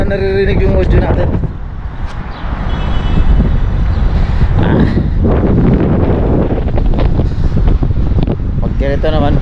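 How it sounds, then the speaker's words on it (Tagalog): Strong wind buffets the microphone on a BMX ride, a loud continuous roar and rumble across the whole stretch, with a voice speaking faintly underneath. "Lakas ng hangin, sana naririnig yung audio natin."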